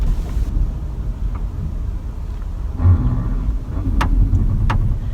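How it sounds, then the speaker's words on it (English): A large white bus idles nearby outdoors, a steady low engine rumble with wind buffeting, swelling slightly midway and holding continuous throughout. "There's this bus next to me. You can't see it, but it's this big white bus."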